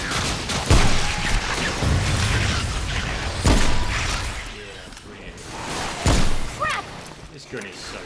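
Gunfire in the video game Remnant: From the Ashes, repeated heavy shots and booming impacts cracking out over a dense noisy battle bed, with someone talking over the action.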